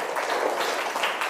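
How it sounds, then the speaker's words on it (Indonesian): Applause from a classroom audience, a brief, moderately faint burst of many hands clapping in a dense wash. "tepuk tangan buat Nindya"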